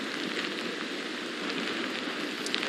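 Hurricane Francine drives wind and heavy rain, a dense steady hiss of rain beating on surfaces, loud and unbroken with no talking.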